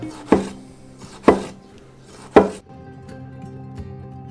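Three sharp knife chops through a tomato on a cutting board, close and distinct with uneven gaps, then a low quiet rustle of the board and kitchen.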